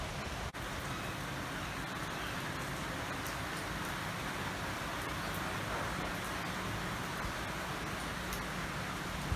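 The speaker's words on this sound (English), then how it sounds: "I'm getting rained on pretty badly right now." Heavy rain falls outdoors as a steady, dense hiss that stays at an even level throughout, with no talking.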